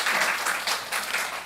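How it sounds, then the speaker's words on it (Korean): A church congregation breaks into applause during a service, a short, steady patter of many hands clapping together at moderate loudness. "우리 박수 한번 쳐줍시다"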